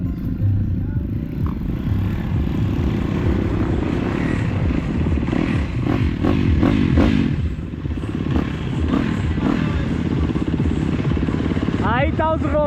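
A group of motorcycles rides along a dirt trail with a continuous engine drone, clatter and revving close by, and people talking over the noise.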